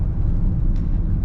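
Road traffic heard from inside a car at the end of an expressway near Subic, Zambales: a steady low engine and road rumble, continuous and close, with no distinct horns or passing vehicles.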